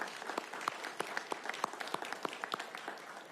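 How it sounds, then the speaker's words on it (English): A crowd at a Washington governor's press conference applauds armed service members: a short burst of scattered, moderately quiet clapping with irregular individual claps, fairly close. "can we give a round of applause for our armed service people and the Afghanis who stood with them"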